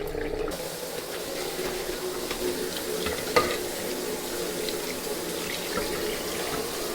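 About three litres of water pour steadily into a pot of beef paye (bong paye) with crushed ginger and green cardamom, a continuous splashing rush with no talk.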